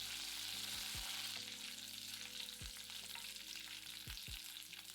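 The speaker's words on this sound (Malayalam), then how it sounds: "വെളിച്ചെണ്ണ ഒഴിച്ച് ചൂടാകുമ്പോൾ 1/2 ടീസ്പൂൺ കടുകിട്ട് പൊട്ടിക്കുക" Mustard seeds, dried chillies and curry leaves fry in hot coconut oil with a continuous bright sizzle and faint popping, over a low sustained tonal background.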